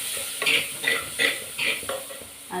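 Brinjal masala sautéing in a pan after turmeric goes in. Rhythmic spatula stirring makes about five regular scraping strokes over a steady sizzle, close up.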